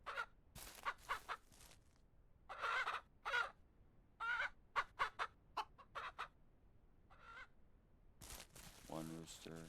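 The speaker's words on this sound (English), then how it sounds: "So right now I'm gonna take my roosters out of here." Roosters crowing repeatedly in the farming game Ranch Simulator Southwest, a series of loud, separate crows and clucks spread across the clip, with a brief stretch of talk near the end.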